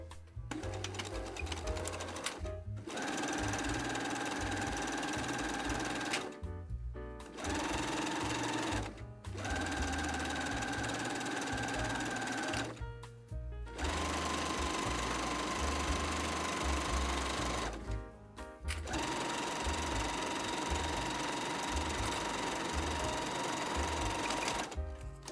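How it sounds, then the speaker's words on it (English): A sewing machine runs in long steady bursts of rapid stitching, stopping briefly several times before starting again, loud and close. "I will take this to the sewing machine."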